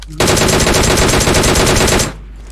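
Gunfire in the mobile battle royale game PUBG Mobile: a loud, close, rapid automatic burst of evenly spaced shots lasting about two seconds, then stopping abruptly.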